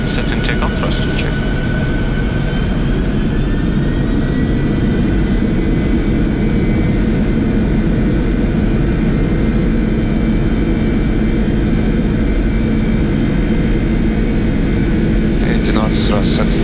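Boeing 747-400 jet engines roar at takeoff thrust, a loud, constant broadband rumble heard from inside the cockpit throughout, with brief clicking at the start and end.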